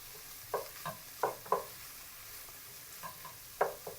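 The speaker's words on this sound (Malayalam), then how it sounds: "അപ്പോൾ നമ്മുടെ സവാള അങ്ങോട്ടിട്ട് അതും നല്ലപോലെ മൂപ്പിച്ചെടുത്ത്" Onions sautéing in a pan for a beef dish, with a soft background sizzle broken by about six quick scraping stir strokes in irregular bursts, heard close and with no voices.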